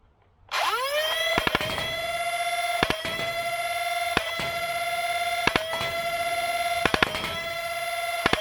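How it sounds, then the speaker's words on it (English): A Hyperfire foam blaster fed by a 2S LiPo battery whirs up with a loud, steady high-pitched flywheel whine, punctuated by several sharp rapid-fire shot clicks spread across the burst. "Hard to get those single shots on a blaster that shoots so fast"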